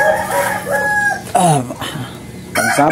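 Several roosters crow in overlapping calls, loud and close, with chickens clucking around them in a busy yard.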